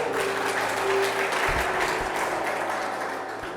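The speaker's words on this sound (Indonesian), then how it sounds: "Mari kita berikan tepuk." Applause from an audience at a year-end thanksgiving church service in Southwest Papua, a steady wash of clapping lasting a few seconds and fading slightly toward the end.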